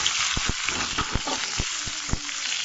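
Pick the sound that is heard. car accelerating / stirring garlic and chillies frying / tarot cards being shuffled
stirring garlic and chillies frying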